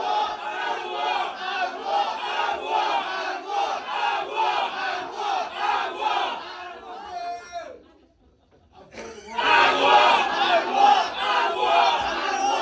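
At a final stage performance, a large crowd chants back in unison with loud, rhythmic shouts. The chanting drops to a brief near-silence, then returns louder than before.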